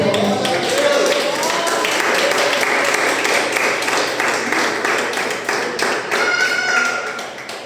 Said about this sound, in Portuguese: Aplauda o Senhor, nome forte.